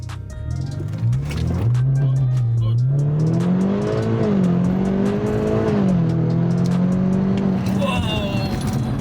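A tuned Stage 2 BMW F30 330e plug-in hybrid making about 400 bhp launches hard from 0 to 60 with its engine revving loudly and rising through gears, close up from inside, with brief voices near the end.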